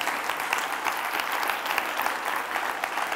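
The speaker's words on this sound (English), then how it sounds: "Somebody give a clap offering to the Lord." A church congregation claps together in a steady, dense round of applause that holds at an even level throughout, with no talking over it.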